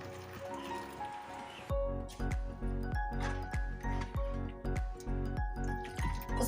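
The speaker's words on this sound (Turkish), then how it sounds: "Ispanağımızı şöyle iyice suyunu sıkalım." Cooked spinach squeezed by hand to force out water, heard close and quiet as a series of wet, rhythmic squelches with dripping, repeating about every half second.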